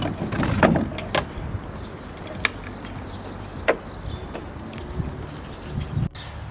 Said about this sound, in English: that pulley makes it a lot more easy to go up and down.